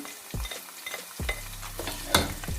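Chopped onion sizzles in a pan for a fish masala curry while a spoon stirs it, with several scraping knocks and clatters over a steady frying hiss, close and fairly quiet.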